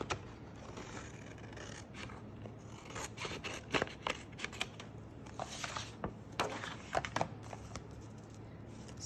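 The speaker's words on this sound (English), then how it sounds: "with a scissor. And I'm cutting it a little smaller than the actual board." Paper being cut with scissors to a size slightly smaller than a board, producing a series of close, crisp snips and slicing scrapes in irregular bursts against a quiet room background.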